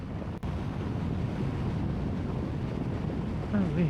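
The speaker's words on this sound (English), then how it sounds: "it's very windy out here" Wind roars across the microphone of a rider on a tall motorcycle, a constant heavy rumble, with a brief voice breaking in near the end.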